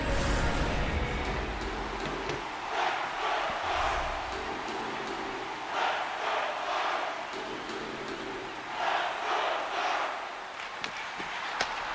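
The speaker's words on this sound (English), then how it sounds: "Fans trying to cheer their team on to the 4th goal and trying to put this game out of reach for Utah" Hockey arena fans cheer during a Utah versus Dallas playoff game, a loud continuous crowd roar with rhythmic rising chant swells and bursts of yelling repeating every couple of seconds.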